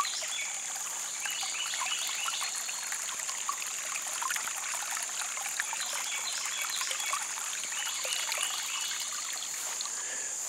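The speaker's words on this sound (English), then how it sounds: "you hear a little of the sound of the birds and the water flowing" Water trickles and flows steadily in a quiet flower garden on a summer day, with small birds chirping intermittently over the constant babble, nothing else intruding.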